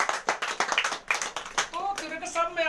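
Guests clap for Tiwari at an LIC family honouring ceremony, a short run of sharp, uneven hand claps, followed by someone speaking.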